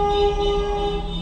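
A passing train sounds a steady, sustained horn tone over the low rumble of the cars, loud and close, with no talk.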